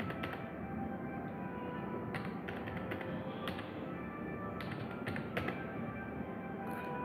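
A computer keyboard clicks under someone typing an amount into a LibreOffice spreadsheet, with quiet, irregular keystrokes arriving singly and in short bursts against a faint room hum.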